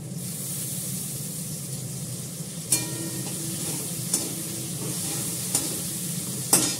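Black cumin seeds, bay leaf and ginger paste fry in hot oil in a pan, giving a steady close sizzle with stirring scrapes and a few sharper crackles, no voices.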